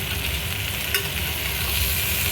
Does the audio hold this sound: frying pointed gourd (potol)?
yes